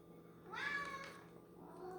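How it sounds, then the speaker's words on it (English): A house cat meows once in the background, a single drawn-out, rising-then-falling cry, fairly faint and distant in a quiet room. "that's my cat in the background meowing"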